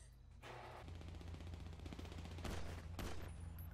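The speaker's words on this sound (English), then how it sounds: "I got shot up." Gunfire in the GTA Online video game, rapid automatic bursts rattling steadily for several seconds with sharper cracks near the end, faint and distant in the mix, no talk.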